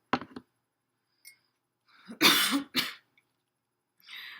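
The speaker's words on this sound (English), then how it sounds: "I'm coughing." A couple of short coughs and throat-clearing bursts, close and fairly loud, separated by quiet pauses, with a softer breathy sound at the end.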